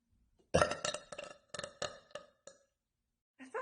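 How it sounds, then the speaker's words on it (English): A big deliberate burp after inhaling air, loud and close, breaking into several rough pulses over about two seconds and then trailing off, with a faint noise at the end. "I can inhale air and release it out in a ginormous burp."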